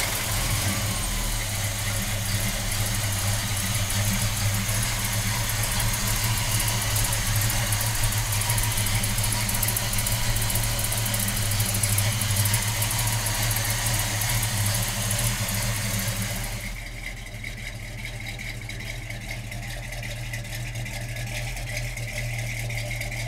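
A 1970 Chevrolet Chevelle engine idling with a dense, steady rumble and metallic rattle, close and loud, dropping to a lower, quieter idle near the end, no talk over it.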